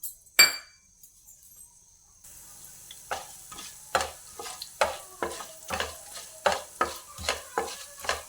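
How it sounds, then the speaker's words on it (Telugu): Coriander seeds fry in a spoonful of oil in a kadai, stirred with a spoon in a steady run of about a dozen close, scraping strokes that clink against the pan over a soft sizzle, after a brief quiet start. "ధనియాలు ఇట్లా ఫ్రై అయినాక"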